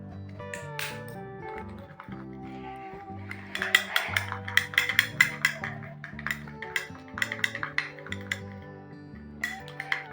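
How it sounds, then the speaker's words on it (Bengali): Spoon clinking and tapping against a bowl as a rose water face pack is mixed, close and bright in irregular bursts over a steady musical background, with no talk. "আমি এখানে ভালোভাবে কিন্তু ইনগ্রিডিয়েন্টসগুলোকে মিক্স করে নিচ্ছি"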